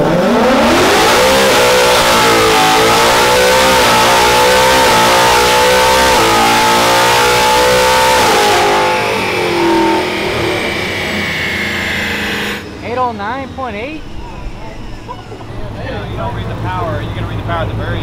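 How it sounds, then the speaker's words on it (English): Caterpillar C15 diesel engine on a dynamometer revs hard through the gears up to sixth, loud and close, with rising pitch sweeps between shifts, then drops to a lower rumble near the end as people talk over it. "We're gonna go through the gears all the way to 6th gear to see how much power is gonna pull out."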